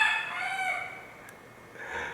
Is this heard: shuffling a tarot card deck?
no